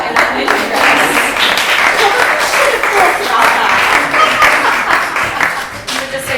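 An audience claps in a steady, dense round of applause that stays loud and even throughout, with a voice briefly heard over it.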